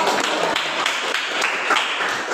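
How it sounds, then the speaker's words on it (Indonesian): Students in a classroom applaud a classmate, a dense wash of many hands clapping steadily for a couple of seconds with no voices over it. "Beri tepuk tangan untuk kamu"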